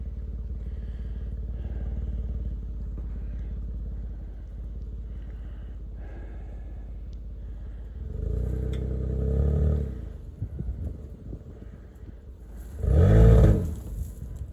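A stuck vehicle's engine revs as the driver rocks it forward and back, a steady idle rumble broken by two louder surges of revving with clattering, close and without talk.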